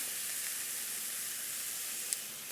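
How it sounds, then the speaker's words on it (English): Onions with green and red sweet peppers and jalapeno sautéing in a pan give off a faint, steady sizzling hiss, continuous and even throughout, with no talking. "just continue to saute this until they soften"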